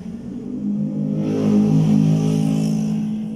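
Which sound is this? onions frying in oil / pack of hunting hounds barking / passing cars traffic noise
passing cars traffic noise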